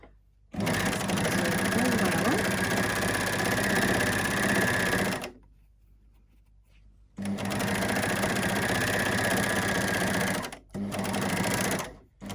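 A sewing machine stitches fabric with piping cord and runs in two long, steady bursts of motor whir and needle chatter, with a short pause between them and a brief third burst near the end. No voice is heard over it.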